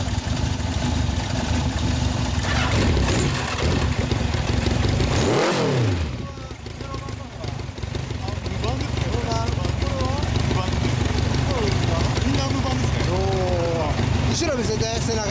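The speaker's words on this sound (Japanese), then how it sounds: "ごめんなさい、エンジンを聞かせてもらえますか。" A gold 1969-era Honda Dream CB750 Four K1 motorcycle engine runs loud and close, with a brief rev swell midway and a steady rough idle throughout, while several people talk over it.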